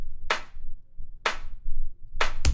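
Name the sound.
first layer of an electronic clap sample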